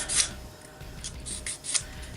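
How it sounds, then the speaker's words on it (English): Smooth acrylic being scuffed by hand, giving a few short dry rubbing strokes, quiet and close, with brief pauses between passes. "you want to scuff up any smooth surface like that"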